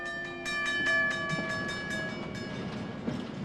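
A moving train gives a steady rumbling roll with rhythmic clicks, and drawn-out horn-like tones sound over it for the first couple of seconds, fairly close and loud.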